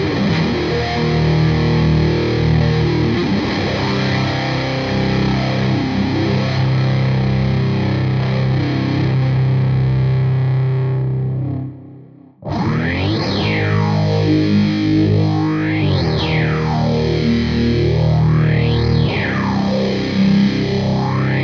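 Electric guitar run through a Grand Orbiter phaser pedal with distortion, producing a continuous sustained, loud distorted tone with sweeping phaser whooshes; a short gap near the middle, then the rhythmic sweeps return more pronounced.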